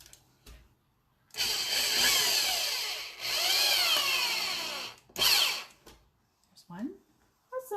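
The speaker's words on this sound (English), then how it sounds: "let's get the drill" A power drill whirs loudly in two long runs with rising and falling pitch and a shorter burst afterward, used while reupholstering a chair, with brief speech around it.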